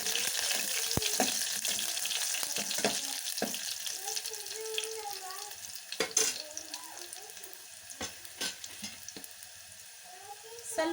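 Crushed garlic fries in a pan for a tomato sambar, giving a soft sizzle under scattered clinks, scrapes and stirring noises, with a faint voice at times.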